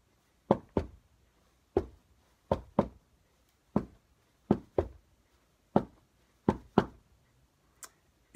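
Feet stamping a steady body-percussion rhythm in close, evenly spaced pairs of dull thuds, each followed by a short ring, with no voices.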